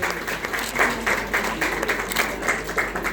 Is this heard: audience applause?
yes